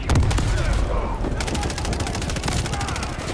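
Rapid automatic gunfire from the Modern Warfare 3 video game rattles loud and close in dense, continuous bursts, with a deep booming burst near the start, and some speech mixed in.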